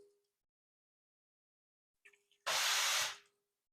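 A parts washer sprays cleaning fluid over disassembled parts of a 42mm Mikuni carburetor, a loud hissing burst lasting under a second after brief clicks, with an electric hum underneath.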